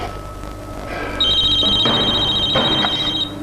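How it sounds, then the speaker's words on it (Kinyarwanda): A telephone rings in a hotel room, its electronic trilling bell sounding loud and steady for about two seconds over a faint background hum. "Telefone ko yagamagaye"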